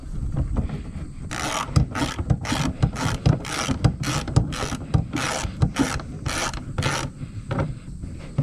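A ratchet strap is cinched down on a Case IH 2208 corn head: about a dozen sharp, evenly spaced ratcheting clicks, close and loud, over a low background rumble.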